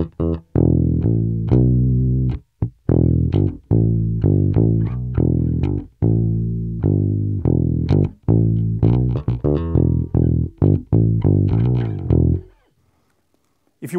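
Bass guitar through a TC Electronic BH500 amp with the tweeter tone rolled off for a closed, vintage character: a continuous run of loud plucked notes and short riffs for about twelve seconds, ending in silence.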